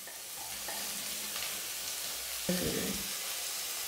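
Onion and tomato sauté in a pan for a Kerala egg theeyal curry: a soft continuous sizzle runs throughout, with a scraping stir of a spoon near the end, close and fairly quiet, no voices.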